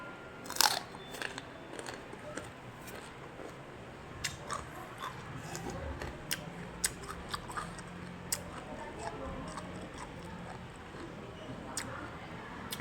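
Close, steady crunching and chewing of food eaten with vinegar, a run of crisp bites and soft mouth sounds over a low background hum, with one louder crunch near the start and no talking.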